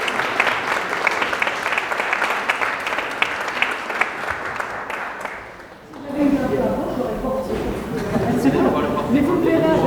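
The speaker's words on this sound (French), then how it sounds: "ce qui suscite une nouvelle salve d'applaudissements" An audience at a morning colloquium marking the 70th anniversary of Louis Braille's entry into the Panthéon applauds steadily for about six seconds, then the clapping gives way to crowd murmur and voices.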